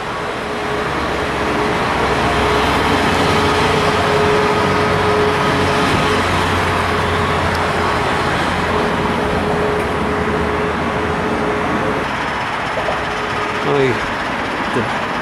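Chrysler Town & Country minivan with a 3.6 V6 drives on the road, giving a steady, loud cabin drone with a constant engine hum and road rumble throughout, and a brief thump near the end.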